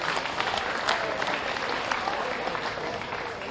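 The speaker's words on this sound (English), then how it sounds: "Let's give them a round of applause." Crowd applause for the market hog class winners at a swine show, steady clapping from the stands with faint voices mixed in.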